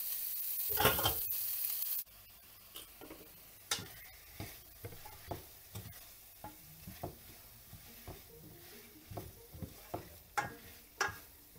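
Loud sizzling at first, then a pan's crackle continues softly while a utensil taps and scrapes in irregular clicks.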